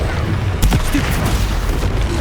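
A Stupefy spell is cast in the video game Hogwarts Legacy: a single sudden, loud booming blast with a burst of crackling noise, then a rumbling tail amid ongoing game sounds.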